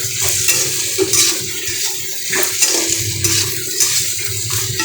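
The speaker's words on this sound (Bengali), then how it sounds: "একটু ভাজা ভাজা করছি।" Food fries in a pan with a steady sizzle while a spoon stirs in rhythmic scraping strokes, close and fairly loud, with no speech.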